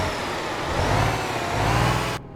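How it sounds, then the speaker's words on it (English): A truck engine in Euro Truck Simulator 2 runs in a steady diesel rumble, then revs up in two swells before cutting off abruptly near the end, with no talking. "Jump into the truck, start the engine, and listen to the engine sounds."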